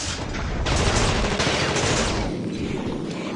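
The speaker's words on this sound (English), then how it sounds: "I recommend you just use the machine gun for this only" Machine gun fire from The Thing Remaster video game, a dense, continuous burst of rapid shots that stays loud and close throughout, thinning slightly toward the end.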